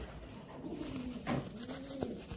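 A restless Madrasi pigeon in an old loft at Uluberia gives a low, soft coo under a steady wash of background noise, with a brief thump partway through.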